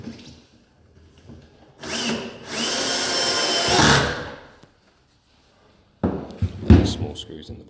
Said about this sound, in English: you can then run all the long drill bits down the two side channels to fully secure it in